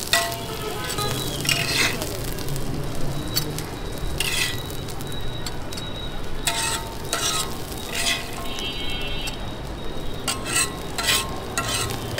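Food sizzles steadily in hot mustard oil in a restaurant kitchen in Dhaka, with a ladle scraping and stirring at intervals over the continuous frying hiss.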